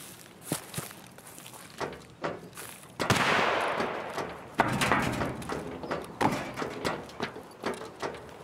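Escape From Tarkov gunfire mixes with nearby footsteps: scattered gunshots and a short burst sound at moderate distance among steady movement noises.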